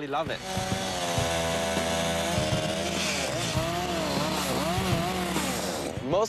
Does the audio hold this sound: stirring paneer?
no